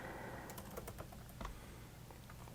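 Someone types on a computer keyboard, entering a region into a bird-sighting website's search, as a short run of faint, scattered key clicks over a soft background hiss.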